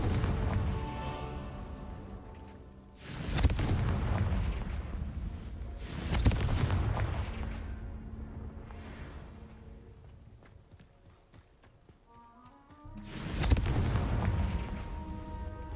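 Confringo blasting spell explosions in Hogwarts Legacy: three heavy booming blasts a few seconds apart, each with a long rumbling decay, loud and close with no talk over them.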